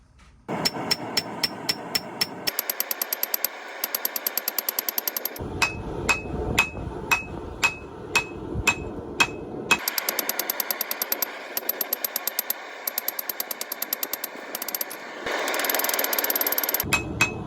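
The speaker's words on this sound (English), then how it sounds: "Here all I'm doing is I'm forging not at a cold heat, but a lower heat" A Damascus steel knife blank bought on eBay being forged at a lower heat, with rapid, evenly spaced metallic hammer blows in long bursts separated by brief pauses, loud and close, against a steady background hum.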